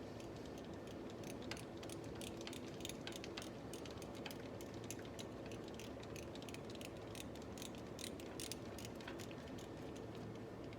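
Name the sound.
ratchet loosening a bolt on a 2010 Sebring starter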